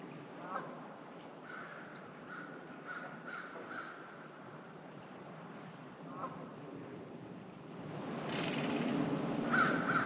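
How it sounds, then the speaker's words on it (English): Crows caw faintly in the distant background of a late-winter outdoor scene, several repeated calls over a soft, steady ambient wash that swells toward the end. "In the distant background, not only can you hear crows,"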